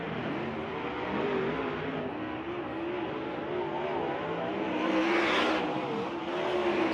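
Sprint race cars with Ott Chevrolet power getting up to speed at a USAC dirt track race at Lawrenceburg, a loud continuous engine drone with shifting pitch as several cars pass near.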